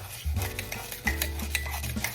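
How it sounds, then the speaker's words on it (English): Crushed French fried onions are stirred into melted butter in a pan, giving quiet, close scraping and soft rustling strokes in an uneven rhythm, with no talking. "I'm gonna just kind of give those a stir in that butter"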